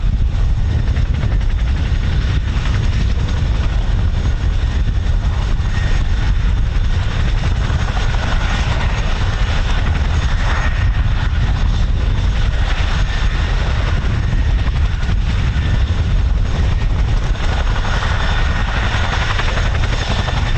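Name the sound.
aircraft taking off at RAF Holbeach air weapons range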